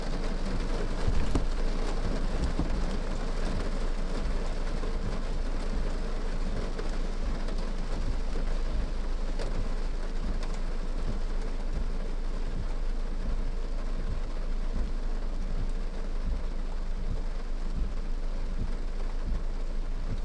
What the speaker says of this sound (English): it is pouring here